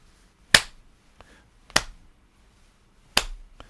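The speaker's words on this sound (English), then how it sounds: "please start clapping your hands at the rate of about 1 beat a second" Hand claps at roughly one per second, three sharp, isolated slaps spaced evenly over a quiet background, fairly close and crisp.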